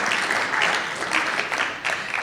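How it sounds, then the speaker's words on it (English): An audience at an art talk claps for the show's curators in a short burst of moderate applause lasting about two seconds, with no voices over it. "And yes, let's clap for them too."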